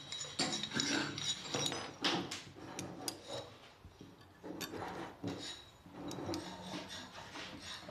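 A hand file rasps across a clamped metal workpiece in a vocational training workshop, producing repeated scraping strokes in an uneven rhythm, with light knocks and rattles of tools nearby and no speech.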